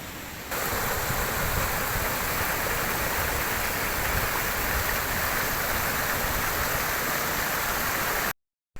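A steady, loud rush of a waterfall and flowing stream in the woods near Cornish Valley, constant and unbroken, ending abruptly.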